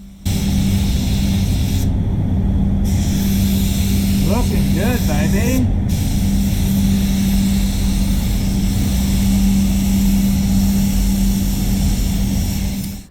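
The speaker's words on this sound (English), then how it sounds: "this is full noise of the spray gun" A DeVilbiss DV1 spray gun with a C2 air cap hisses steadily and loudly at full air pressure throughout, with a low hum beneath and a brief spoken remark partway through.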